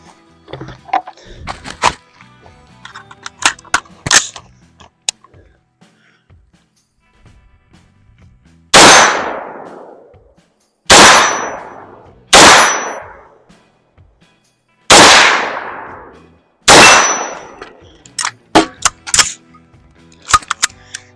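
Loud gunshots ring out during competition shooting practice, five sharp blasts spaced a second or two apart with echoing decays, framed by lighter metallic clicks and clanks of handling and steel targets before and after.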